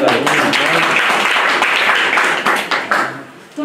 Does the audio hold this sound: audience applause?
yes